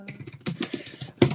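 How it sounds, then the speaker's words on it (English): Fingers tap quickly on a computer keyboard, a close, brisk run of light clicking keystrokes with a sharper final clack. "It's pretty good typing skills like Kinger"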